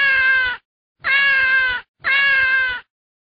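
A cat meows three times in an even rhythm, each call clear, close and about the same length, with short silences between them.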